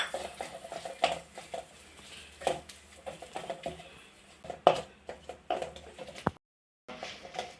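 Egg yolk stuffing being mashed and mixed in a pan with a spoon, giving soft clinks and scraping taps of utensil on metal at an irregular pace, close and fairly quiet, with a brief silent gap near the end.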